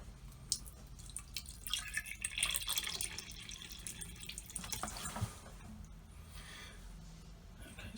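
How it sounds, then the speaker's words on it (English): Water draining out through a freshly unblocked boat seacock, a faint, steady trickling and dripping wash with scattered splashes, continuous throughout and without voices. "Okay, so that's all draining out,"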